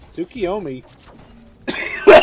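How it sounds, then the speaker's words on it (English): A person coughs sharply twice near the end, loud and close, right after a brief burst of spoken words, with a quiet gap in between. "Sorry, I have to really badly cough there."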